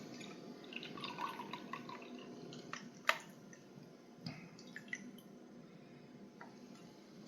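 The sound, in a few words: draining canned clams, clam juice dripping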